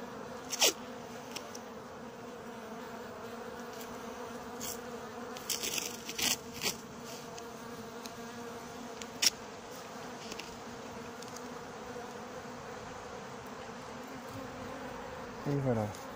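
Steady insect buzzing of honeybees at an apiary hive hums through the whole stretch, with a few brief clicks and rustles close by.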